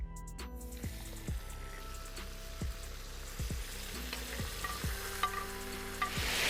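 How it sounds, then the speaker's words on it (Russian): Meat fries in a kazan over a campfire as white wine goes in. Metal scrapes and clinks sound from stirring while the sizzle swells louder toward the end. "добавляем вино, закрываем крышкой и ждем"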